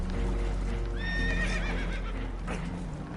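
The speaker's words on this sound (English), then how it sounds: "Horses are spooked" Spooked horses let out a loud, close whinny that rises and falls, with hoof clops and a low rumbling background continuing underneath.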